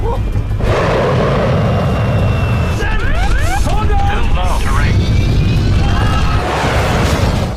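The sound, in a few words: film sound of Nazi fighter planes in air combat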